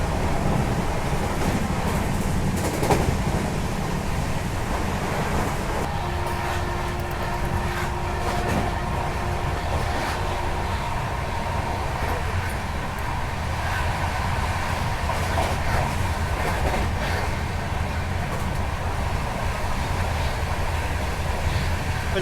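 India's longest Duronto Express running at maximum speed between Delhi and Ernakulam, a steady loud rushing rumble of rail cars with rhythmic clatter and a brief sustained tone, heard continuously from on board.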